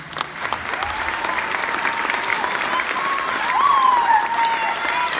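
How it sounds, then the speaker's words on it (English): A middle-school concert audience applauds the honors choir with loud, steady clapping and a few cheers; a faint whistle-like tone rises through the crowd noise. "so give them a round of applause"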